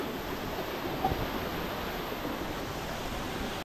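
A waterfall on Chandranath hill at Sitakunda, Chittagong, gives off a steady, even rush of falling water that stays constant and fairly loud throughout, with no voices.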